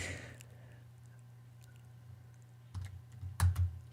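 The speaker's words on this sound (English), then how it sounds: "I hate typing in front of people like this." A few scattered keystrokes tap on a computer keyboard over a low electrical hum, then a quick cluster of clicks at the end.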